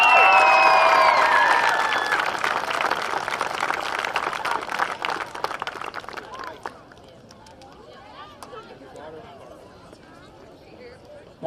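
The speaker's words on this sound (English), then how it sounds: "One last round of applause for all these girls." Outdoor crowd at a baseball and softball parade applauding and cheering for a girls' softball team, loud and dense at first, then thinning out after about six seconds into scattered claps and murmuring.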